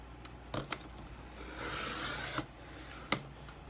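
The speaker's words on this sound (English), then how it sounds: "see if I can't trim it right to the edge" A Fiskars paper cutter trimming a journal page to the edge, a few sharp clicks, then a steady close rasping slide of the blade across the paper, ending with a crisp click.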